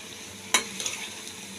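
Jackfruit kofta frying in a pan while being gently stirred, a soft steady sizzle with one sharp utensil scrape and a few light clinks, close and fairly quiet.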